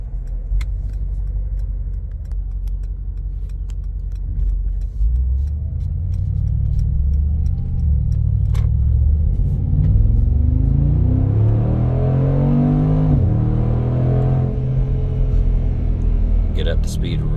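A 2022 Mercedes-Benz G 63 AMG pulls away and accelerates, its deep engine rumble climbing in pitch through rising revs and gear shifts, with a voice talking over it.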